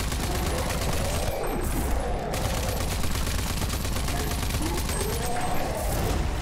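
Ranger Assault Rifle fire in the video game Rage 2, rapid automatic bursts rattling loudly and nearly nonstop across the clip, with game effects mixed in.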